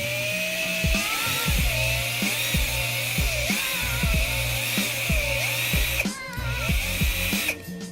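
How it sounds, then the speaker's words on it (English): A wood drill bit bores into plastic with a whining, whirring power drill, the motor pitch dipping repeatedly as it bites and rising again, close and steady with no talk. "It is gonna take a few tries since this is a wood drill bit."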